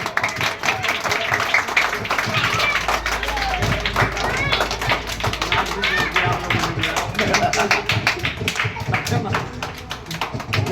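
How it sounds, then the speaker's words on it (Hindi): A crowd at an Ambedkar Jayanti community gathering in New Delhi claps steadily for an honoured elder, sustained loud applause running throughout with voices mixed in. "तो इनके लिए जोरदार तालियां मेहरा जी के लिए"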